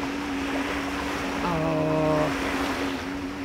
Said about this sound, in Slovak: jazdia mi tu teraz člny a skútre, takže tu bude mať vlnky